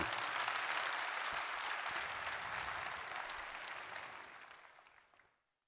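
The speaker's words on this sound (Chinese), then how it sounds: "给 V-Way 一个掌声哦。" An audience at a Malaysian direct-selling company talk claps together in a dense, sustained burst of applause that gradually thins and fades out to silence over several seconds.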